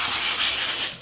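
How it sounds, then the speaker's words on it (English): Cooking spray hisses from a can onto plastic wrap in one short, close burst that fades at the end. "I put cooking spray on the plastic wrap"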